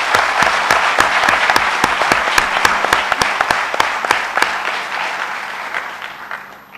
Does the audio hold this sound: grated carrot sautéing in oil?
no